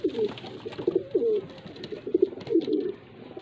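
Pigeons at a Faisalabad pigeon seller's loft, handled for inspection, give several close, throaty coos in a soft repeating rhythm with no talk over them.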